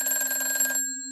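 A telephone rings in a ghost-story telling, a steady electronic ring with bright sustained tones for most of a second before cutting off into a faint held tone, heard alone and fairly close.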